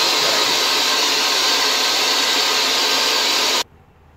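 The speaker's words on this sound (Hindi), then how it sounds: "अभी मेरे पास तो ड्रायर है तो मैं ये यूज़ करूँगा, ड्रायर इस तरह यूज़ करना है" A hair dryer blows steadily and loudly on a freshly washed wig, a close, continuous rushing whoosh that cuts off abruptly near the end.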